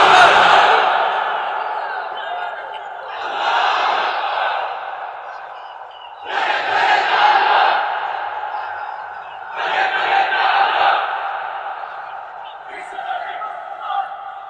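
A crowd at an Islamic sermon gathering shouts the takbir chant in unison, about five loud bursts of massed voices separated by brief pauses.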